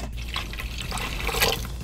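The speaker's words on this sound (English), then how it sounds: "Once you're done, pour the juice in the Instant Pot." Juice pours into an Instant Pot as a continuous splashing, gurgling stream of liquid, close and fairly loud for a couple of seconds.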